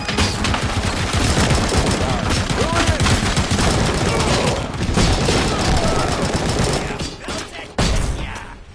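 Dense, sustained bursts of gunfire in the video game RoboCop: Rogue City, loud and continuous, with rapid overlapping shots and a brief louder crack near the end.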